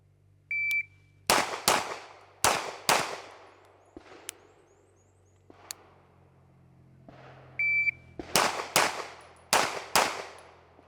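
Pistol shots from a Staccato CS fired outdoors on a hot day, two quick strings of about four sharp, loud reports each, separated by a pause with small clinks and a brief electronic beep before each string.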